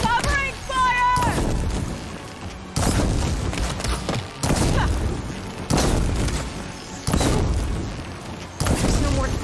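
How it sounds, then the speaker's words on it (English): A volley of covering gunfire, loud shots and booming bursts in separate clusters every couple of seconds, each followed by a decaying rumble, with voices in between. "Covering fire!"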